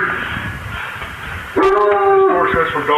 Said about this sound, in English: there's a dog that's barking, and the dog will bark and bark and bark